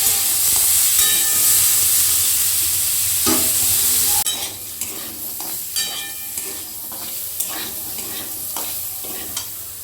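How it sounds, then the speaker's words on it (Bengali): Young jackfruit frying with salt in a wok gives a loud, steady sizzle with repeated clatters of stirring. The sizzle drops sharply about halfway, leaving quieter frying broken by scattered scrapes and knocks. "লবণটা দিয়ে একটু মিশিয়ে নিয়ে কাঁঠালটাকে ভেজে আগে তুলে নেব।"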